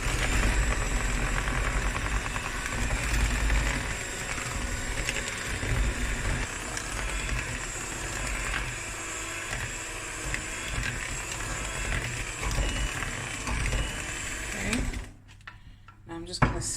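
An electric mixer runs on slow through lemon bundt cake batter with baking powder and milk, a steady continuous mechanical whir that holds level for about fifteen seconds before cutting off, with someone speaking over it.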